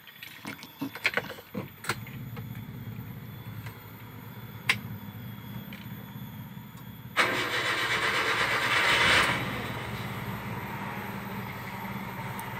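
A few clicks and rattles, then a Mitsubishi Kuda engine cranks and catches with a brief rev before settling into a steady idle.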